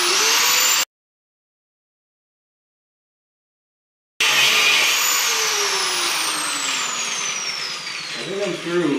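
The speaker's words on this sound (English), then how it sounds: "then I'll switch to a grinding pad" Angle grinder with a grinding pad working on a Mopar 8 3/4 differential housing during axle narrowing, a loud steady whine that drops out for about three seconds and then resumes, grinding on continuously to the end.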